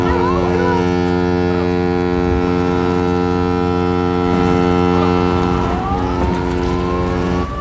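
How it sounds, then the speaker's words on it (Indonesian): A navy ship's horn sounds during a pirate-attack rescue at sea, a loud, sustained, deep tonal blast holding steady for the full stretch with faint background noise. "tiba-tiba terdengar suara klakson dari salah satu kapal"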